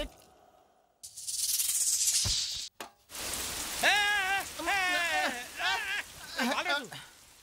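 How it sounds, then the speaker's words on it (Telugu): Rain in a comedy film scene comes as a brief, loud rushing hiss that cuts off abruptly, followed by raised, animated voices talking. "వర్షం పడుతుందిరా."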